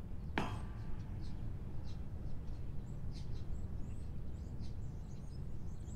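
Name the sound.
birds chirping in video game The Stanley Parable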